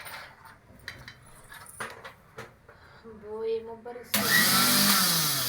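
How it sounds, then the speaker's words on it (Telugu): A kitchen mixer grinder loaded with dried red chillies starts abruptly after some quiet talking, then runs as a loud, steady, close-up whirring roar until the end. "మిక్సీ ఇట్లా ఉంటుంది అన్నమాట"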